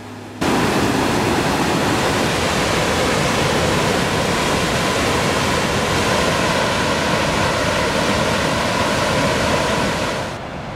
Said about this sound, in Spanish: el eco que produce el golpeo del agua en su caída buscando el Duero